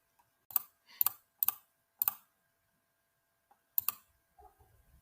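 Six crisp mouse clicks on a computer while building a website, four in a quick row then a pause before the rest, close and isolated in a quiet room, followed by faint rustling.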